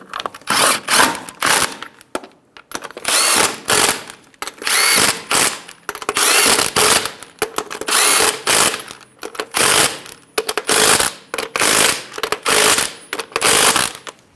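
A power tool snugs the wheel lug nuts on a 2010-2014 Subaru Outback in loud, close, rapid bursts of whirring and rattling, repeated in short runs with brief pauses between them.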